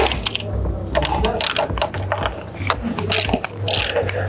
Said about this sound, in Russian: Забыли совсем с той стороны выкрутить. Вот эти вот шестигранные болты.